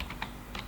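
A few quick keystrokes on a computer keyboard while a Java compile command is entered, light close clicks in an uneven burst with no talking.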